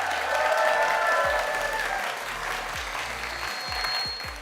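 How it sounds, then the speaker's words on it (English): Crowd applause for teams at a student robotics competition, a steady wash of clapping throughout, with low thumping sounds recurring underneath and a faint steady tone near the end. "I want everyone to give each team a round of applause"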